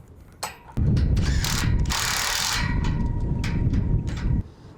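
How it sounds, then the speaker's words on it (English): A rattle gun with a 21mm socket drives U-bolt nuts tight in a few fast, loud, continuous bursts of rapid mechanical hammering, separated by short pauses and sharp clicks. "grab a rattle gun and a 21mm socket to speed up the process"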